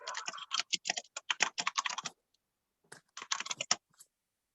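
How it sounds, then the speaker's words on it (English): Rapid keystrokes clatter on a computer keyboard during a board meeting, close and crisp, in one long burst of typing, then a pause and a shorter second flurry. "I started typing on my keyboard."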